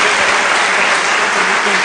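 A church congregation applauds loudly and steadily throughout, a dense wash of many hands clapping at once.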